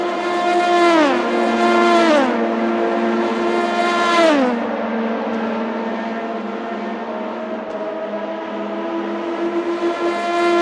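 Race cars in the Le Mans 5 Hours racing video game roar down the Mulsanne Straight, engines loud and close, pitch climbing and dropping with quick gear shifts before settling into a steady high drone.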